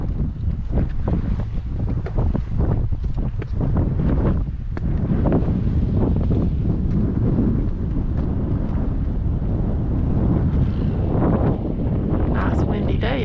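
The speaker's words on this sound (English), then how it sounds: "Nice windy day up here." Strong wind buffets the microphone on a high hilltop at a national cemetery in Greeneville, Tennessee, a steady close roar with gusty surges throughout.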